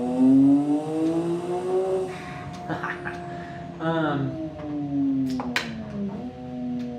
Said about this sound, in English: This is a single turbo conversion 335i. So it just sounds awesome.